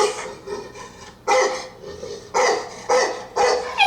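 An angry puppy barking in a run of sharp, close barks and yips, six or so bursts with short pauses between, loud and alone without talk.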